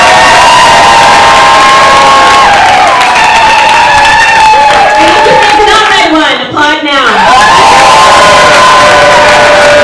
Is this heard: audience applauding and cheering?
yes